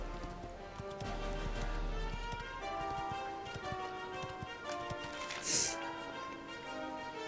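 Horse hooves clip-clop in Dragon Quest XI, a steady rhythmic trot running under loud game music, with a brief bright burst near the end.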